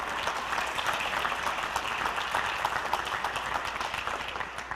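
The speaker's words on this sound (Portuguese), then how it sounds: "Forte esse aplauso à palavra do Senhor." A church congregation applauds steadily for several seconds, dense and loud clapping from many hands that fills the space without pause.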